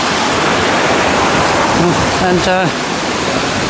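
Mountain stream after rain on a short walk at Tal-y-bont, Wales, rushing as a steady, loud broadband wash of water with a voice speaking briefly over it.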